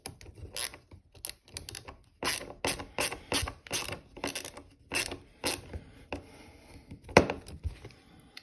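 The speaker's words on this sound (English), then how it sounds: "the ratchet does come in handy sometimes" A ratchet screwdriver clicks in quick close bursts with short pauses between them, while the scales are swapped on a Paramilitary 2 folding knife.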